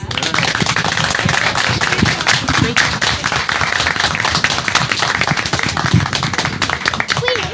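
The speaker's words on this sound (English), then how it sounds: "Can we do another round of applause?" A school board meeting audience gives a loud, sustained round of applause, dense steady clapping throughout with some voices mixed in.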